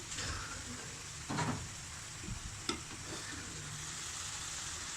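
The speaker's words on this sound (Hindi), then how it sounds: "अब हम इसमें धनिया थोड़ा मिक्स करेंगे।" Coriander stirred into aloo gobi matar in a pan, a soft steady frying hiss with a couple of brief scraping strokes and a light knock of the spoon.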